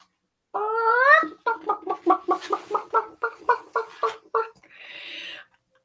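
A human voice imitates a hen clucking: a rising, drawn-out call followed by a quick run of about a dozen short, evenly spaced clucks, ending in a soft breathy rasp, close and fairly loud.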